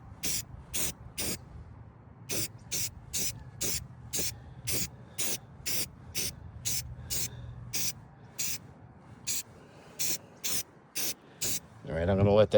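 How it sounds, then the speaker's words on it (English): A can of Rust-Oleum spray paint hisses in short, sharp bursts onto an above ground pool, about twenty quick sprays in an uneven rhythm, close and loud over quiet background. "I'm just going to hit it with some spray paint."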